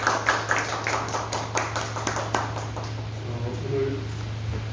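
A seated audience at a policy research results meeting gives a short round of scattered clapping, steady and moderately close over a low hum, then tapers off.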